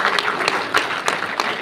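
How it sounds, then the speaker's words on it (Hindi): An audience at an Urdu mushaira in Qatar gives a humorous poet a warm welcome with brief, dense applause and a few sharper individual claps standing out, and no voices over it. "आपसे दरख्वास्त है कि भरपूर तालियों में इस्तकबाल फरमाइए"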